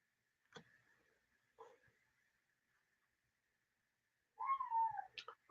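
A cat meows once clearly near the end, faint and close in an otherwise quiet room, preceded by a couple of soft knocks and a thin steady whine.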